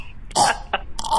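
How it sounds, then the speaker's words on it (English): A person gagging and hacking as if coughing up a hair, several short throaty bursts spaced across a second, close and fairly loud. "Can you hear me gagging?"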